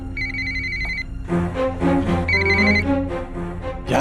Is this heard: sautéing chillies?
no